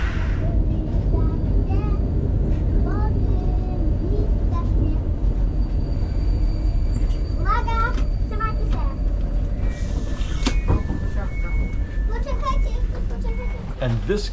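Train travelling from Berlin to Krakow, a steady rumbling rail interior drone with clatter and squeaks, while voices talk in the carriage.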